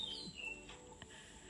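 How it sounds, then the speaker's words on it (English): Birds singing in the early morning, a few thin chirps and short tweets at a distance, soft against quiet background ambience with no talking. "if you hear birds in the background"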